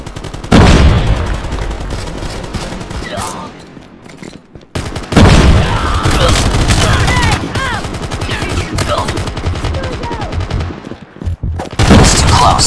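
Rapid gunfire and a blast from a frag grenade in the mobile shooter Call of Duty Mobile, loud dense bursts of shots filling the scene with a brief drop-off near the middle before firing resumes.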